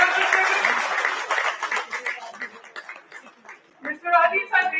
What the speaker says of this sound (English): A very huge round of applause for Mr. Constance Saxena, Senior Admin Officer, for completing his year perspective.